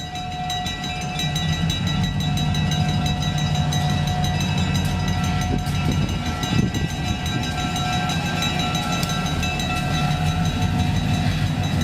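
A freight train rolls steadily past an activated road crossing with a continuous loud rumble of wagons and a sustained high bell-like ringing tone from the crossing, and nobody speaks.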